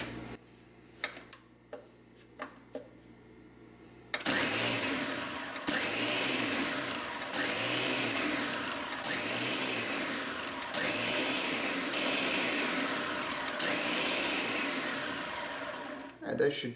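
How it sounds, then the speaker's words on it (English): A Ninja blender pulses almonds for macarons in a run of short, loud whirring bursts, roughly seven pulses with brief gaps between them, preceded by a few light knocks and clicks. "I'm just using a Ninja blender and we're gonna pulse this for, you know, 10, maybe 15, depending on the mix."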